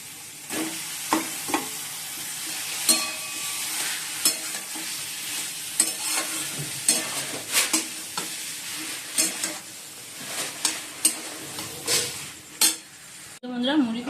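Chicken pieces fry in a pan with spice paste and potatoes while being stirred, a steady sizzle broken by repeated scraping clacks of a utensil against the pan, close and moderately loud.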